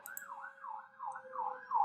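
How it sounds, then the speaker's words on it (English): A wailing siren rises and falls steadily in the background, somewhat distant and fairly quiet, cycling about every half second with no talk over it. "Sorry if you can hear the siren in the background."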